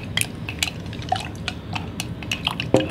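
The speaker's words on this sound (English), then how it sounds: "I'm going to try the hot chocolate as he stirs that" Spoon stirring MRE hot chocolate in a cup, with light clinks and small liquid swishes scattered through a soft, steady bed of background noise.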